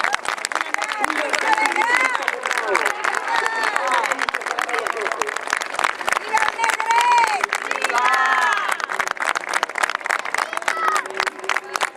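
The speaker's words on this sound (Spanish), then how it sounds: "Recibamos con un fuerte aplauso al Santísimo Cristo de Grau." Crowd at a harbour gathering in Grao, Valencia, applauding the arrival of the Santísimo Cristo del Grao, steady clapping mixed with cheers and chatter, with voices talking over it throughout.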